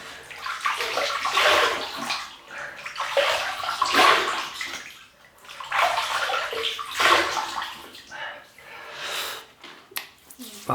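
Water splashed onto a face in a rinse before a shave, several bursts of close sloshing and dripping that rise and fall in a slow rhythm, with faint breathy snorts between them.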